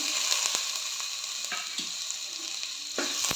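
Green chillies sauté in hot oil in a pan for a coconut-based fish curry. A close, steady sizzle is broken by occasional sharp spatula taps and scrapes.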